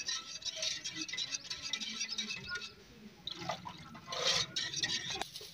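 Water is poured into yogurt to thin it for a gram flour pakora batter in a village kitchen: a steady, soft liquid splash and patter, with faint rattling near the end.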